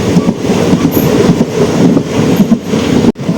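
A train travelling from Tiruvannamalai towards Tirupati, its carriages giving a loud, steady rumble and clatter close by throughout, with a brief dip near the end.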